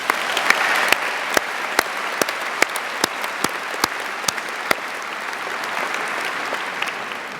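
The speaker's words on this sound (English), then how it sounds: "Let's give everybody a big round of applause" Sustained audience applause at a graduation convocation ceremony, a broad steady roar of many hands with a few sharp close claps standing out in an uneven rhythm, no talking.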